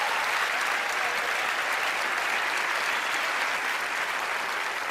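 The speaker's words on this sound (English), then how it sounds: "let's give Mark a nice round of applause" A studio audience at a magic show gives a steady, dense round of applause for a volunteer named Mark, loud and close, holding at an even level for the full five seconds with no speech over it.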